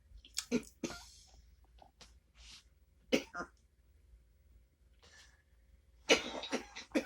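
A person coughs several times in short bursts separated by pauses, close up, with a final cluster of harsh coughs near the end.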